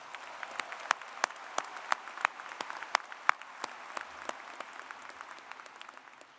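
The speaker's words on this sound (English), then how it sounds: "will you please give another round of applause for Ansley for the great job she did singing" An audience applauds at a Clemson University graduation ceremony, the clapping faint and distant across a large hall, with individual sharp claps standing out before it tapers off.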